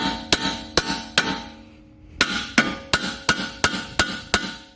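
A hammer beating on a suspension part of a 2013 Dodge Charger R/T during a lowering spring install: about ten loud metallic clanks, three, then a pause, then seven in a steady rhythm.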